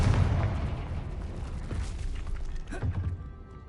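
Confringo fire spell cast in Hogwarts Legacy, a deep rumbling explosion with a heavy low boom that fades, followed by a second thump near the end, moderately loud.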